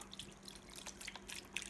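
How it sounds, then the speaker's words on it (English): Chicken broth is poured from a carton into a slow cooker, a quiet trickling and dripping liquid sound with faint splashes, close and soft, with no talking. "I'm going to pour in the chicken broth"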